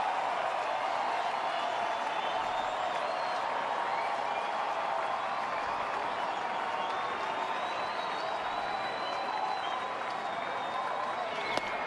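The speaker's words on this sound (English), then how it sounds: "And here comes the crowd again." A baseball stadium crowd at a Tigers–Twins game, with the Tigers shutting out the Twins 9–0, keeps up a steady, loud roar of cheering and applause throughout.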